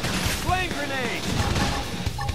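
A busy mix of explosive blasts from a flame grenade attack and crashing impacts in Xenoblade Chronicles X runs throughout, with a shouted voice cutting through the din.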